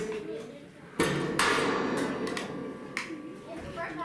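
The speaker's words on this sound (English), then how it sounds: "just need to do a few rivets in the back here." Rivets are set into a stainless steel counter for an outdoor kitchen, with a few sharp metallic snaps and clanks at close range over a low background hum.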